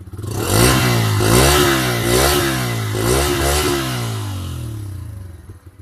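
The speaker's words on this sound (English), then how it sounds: "Give it the beans." Close, loud Bajaj Freedom 125 CNG motorcycle engine revving hard, the pitch climbing and falling in several strong throttle bursts before easing off.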